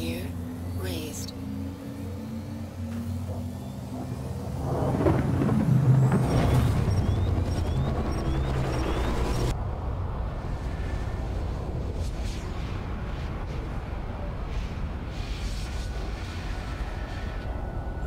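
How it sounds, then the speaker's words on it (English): A 600i ship in Star Citizen makes a quantum drive jump: a deep rising rumble swells into a loud roar, then settles into a steady rushing drone. A voice speaks at the start. "Quantum drive activated."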